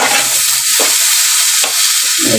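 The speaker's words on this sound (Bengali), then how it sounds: "এটা একটু ভাজা ভাজা হয়ে গেছে মজেও এসছে আলুটা আর বেগুনটা" Loud, steady sizzling of potato and eggplant frying in a pan, with a couple of brief stirring scrapes and no talking.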